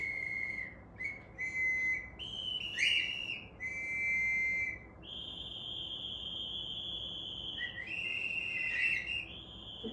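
A pet rescue bird whistles and sings alone, giving a run of clear, high, steady whistled notes, some held and some broken into short chirps, at moderate loudness with no talk.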